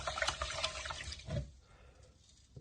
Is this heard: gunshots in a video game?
no